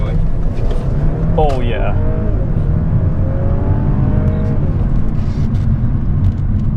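A 2012 Audi A6 Premium all-wheel-drive sedan accelerates along a straightaway, its engine rising steadily in pitch as it pulls through the gears, heard from inside the cabin beneath a brief spoken exclamation.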